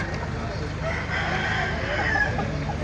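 Roosters crow amid the clucking of fowl at the Baliuag market, a drawn-out crow standing over busy background noise at moderate distance.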